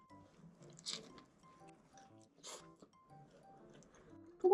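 Someone eating pizza with an unusual topping mix, soft close mouth sounds and a few light crunchy bites in a quiet room.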